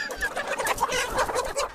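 A desi village chicken at a poultry sale gives a quick run of clucks, close and fairly soft, over a couple of seconds.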